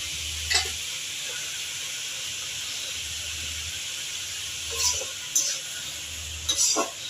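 Vegetables frying in a pan with turmeric and salt, a soft steady sizzle close by, broken by a few short scraping stirs of a spatula.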